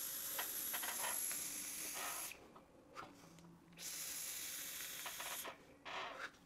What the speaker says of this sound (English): let's go ahead and have a vape.